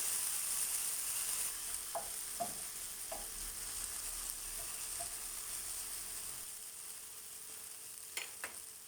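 Onions and tomato frying in a pan for a dried green bean dish, a steady soft sizzle running throughout, with a few light clinks of a utensil against the pan.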